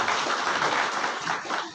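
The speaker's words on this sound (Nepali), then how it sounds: "र उहाँलाई हामी जोडसँग ताली लगाउँछौँ।" An audience claps together at a meeting in Kalimpong district forming a Christian minority welfare organization, welcoming an honoured reverend called forward; a dense, steady wash of applause fills the whole stretch, fading slightly at the end.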